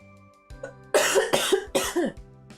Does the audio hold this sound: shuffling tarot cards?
no